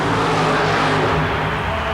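The Blue Max fuel-injected, nitrous oxide-injected Jeep funny car roars loudly and steadily at a 1991 mud racing event in Worcester, Massachusetts. The engine is a dense, continuous blare close to the listener.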